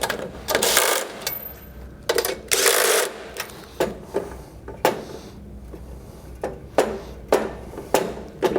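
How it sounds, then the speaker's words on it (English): Hand tool tightening nuts onto the bolts of a plate assembly, close up, with ratcheting clicks and short mechanical whirring bursts separated by pauses. "Nuts go over here, and again you use our tool to tighten them."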